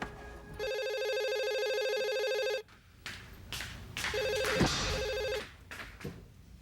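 A telephone rings with a sustained electronic ringtone for about two seconds, pauses, then rings again amid some clatter and noise.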